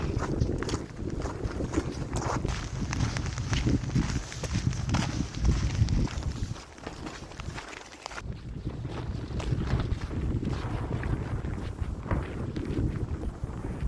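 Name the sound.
wind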